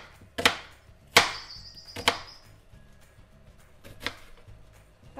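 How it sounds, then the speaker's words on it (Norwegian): An onion sliced with a kitchen knife for Ukrainian fish soup: a handful of sharp, close blade strikes against a cutting board, spaced irregularly with quiet gaps between them. "Skjære av løk."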